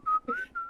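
A short whistled phrase of three clear notes, close and fairly loud, with brief gaps between them.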